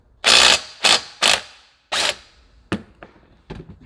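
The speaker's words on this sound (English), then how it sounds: "Take our axle nut loose." A ratchet works loose the axle nut on a Burromax mini bike in several short, sharp mechanical bursts, four strong ones followed by fainter, quicker clicks, close and loud.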